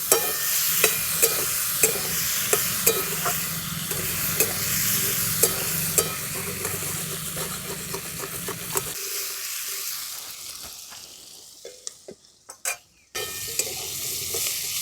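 Potatoes with salt and a little turmeric fry in a pan under a steady sizzle, stirred with regular scraping taps for most of the stretch, then the frying noise drops away and a few sharper clatters follow near the end.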